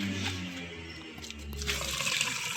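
A metal water pot is lowered and drawn up from a village well, water sloshing and splashing at close range after a low hollow rumble, with no voices.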